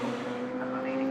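Radical SR1 race cars racing side by side at Brands Hatch give off a steady, loud engine drone. There is a strong, sustained tone with no pause throughout.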